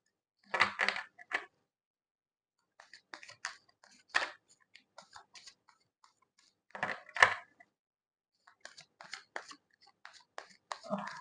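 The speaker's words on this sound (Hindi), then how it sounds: "गाइस, अगर आपको कार्ड शफलिंग नहीं देखनी तो आप स्किप कर सकते हैं" Tarot cards are shuffled close up, with quiet bursts of crisp riffling and slapping cards separated by short pauses.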